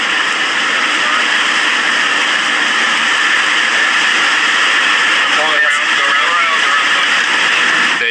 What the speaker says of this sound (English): They then aborted the landing and went around.